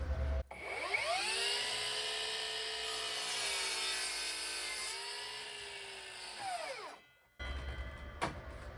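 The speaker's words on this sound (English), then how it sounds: "That's our bevel cut." A mitre saw makes a bevel cut through wood for an accent wall, with a loud, close motor whine that spins up, holds steady through the cut for several seconds, then winds down and stops.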